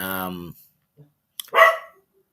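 A dog barks in a short burst near a house, right after a voice and a brief pause, with a few faint yips before the main bark.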